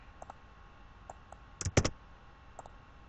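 A few light keystrokes click on a computer keyboard, with isolated taps spread out and a brief, louder cluster of keys pressed in quick succession near the middle, in a quiet room.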